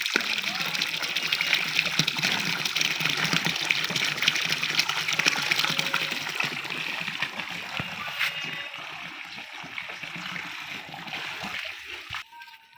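Bore well water gushing hard from a pipe into a round tarpaulin pond, a loud continuous splashing roar up close that cuts off abruptly near the end.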